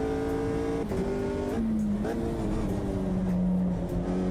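A Ginetta race car engine during a race, heard as a sustained onboard engine drone with shifting pitch, dipping between gear changes and rising again, loud and continuous.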